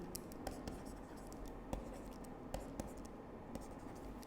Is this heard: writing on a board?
yes